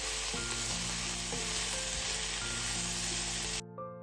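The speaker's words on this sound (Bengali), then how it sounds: "আর এখন এর মধ্যে দিয়ে দেব পেঁয়াজ কুচি।" Finely chopped onions frying in oil in a pan, a loud, dense and steady sizzle heard up close over faint low tones, with no talk, cutting off abruptly just before the end.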